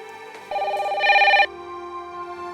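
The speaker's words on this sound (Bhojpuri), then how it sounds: "हम सोचे थे कि निम्मो के फोन अभी तक काहे नहीं आई" A telephone rings in a Bhojpuri family drama scene: a short electronic ringtone of steady, bright tones that lasts about a second and is heard clearly with no one talking over it.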